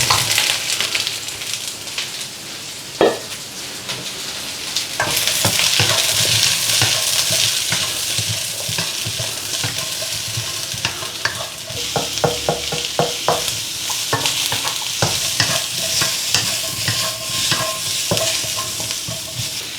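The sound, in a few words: onions, garlic and mushrooms frying in a pan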